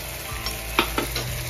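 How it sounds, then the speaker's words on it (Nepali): Goat meat is stir-fried in a pot for goat soup, with a constant sizzle under a few distinct scraping stirs of a utensil against the pot, close and clear, with no speech. "अब यसलाई अझै म भुट्छु मजाले भुट्छु"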